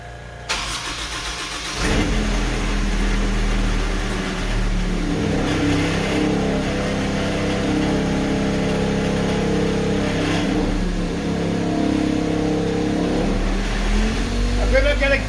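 A Zamboni ice resurfacer's engine cranks and catches, then settles into a steady mid-pitched idle with slight revving, loud and close for about fifteen seconds.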